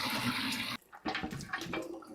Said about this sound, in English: Just going to pour the rest through this strainer.